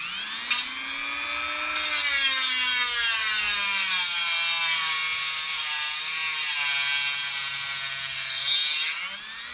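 A high-pitched rotary power tool trims a part for a test fit on a starter, with a steady, whining spin held for several seconds near the mic and no talk.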